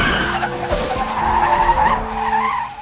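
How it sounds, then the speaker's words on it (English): A car skids loudly on the road in a film scene where a deer slams into it, a sustained tire squeal and scraping rumble that holds for several seconds, close and prominent. "Then out of nowhere, a deer slams into their car."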